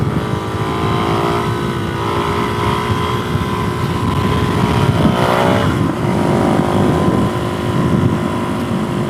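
A motorcycle engine drones steadily while riding, shifting into fourth gear and going over a hill, its pitch rising and sliding with the shift, heavily mixed with wind rush against the microphone.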